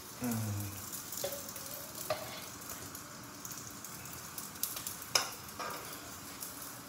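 A ready-made paratha fries in ghee in a pan, a faint steady crackling sizzle with occasional soft clicks and light spatula taps, quiet and close.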